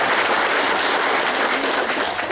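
Dense, steady audience applause fills a live motivational seminar in Tasikmalaya, loud and continuous throughout with no voices over it.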